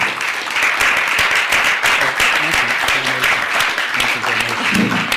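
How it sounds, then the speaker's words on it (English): A lecture audience gives a warm round of applause at the close of a talk, steady and loud clapping from many hands across the room that carries on without a break. "Let's give a warm round of applause to Ted Gunderson, ladies and gentlemen."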